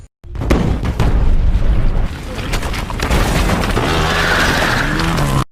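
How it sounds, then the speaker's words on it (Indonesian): Loud explosion set off by a trigger in the action film Point Break, a dense booming blast that fills the scene, followed by a sustained rumbling roar and debris noise without a break. "Dia tetap menekan pemicu ledakan"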